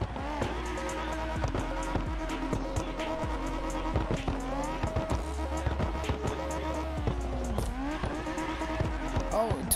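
A drifting car in the CarX racing game on a modded Southern Circuit map: a steady, revving engine with rising and falling pitch, and tire squeal running through the whole stretch, with voices in the background.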